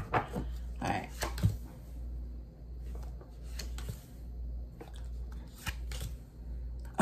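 A deck of cards is shuffled by hand in a quiet room, giving several quick crisp riffles and soft snaps spread across the stretch, faint and close, with a low steady hum underneath.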